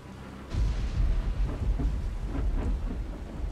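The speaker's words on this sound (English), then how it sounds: "Thunder." Thunder rolls through the night in the zombie survival game Dying Light, a deep low rumble that swells up and carries on steadily, with a rain-like hiss over it.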